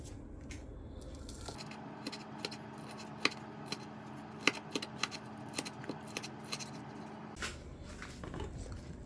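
A knife slices green onion on a cutting board, sharp crisp chops tapping out at an uneven pace for several seconds, close and fairly quiet, with a soft kitchen background and no talk.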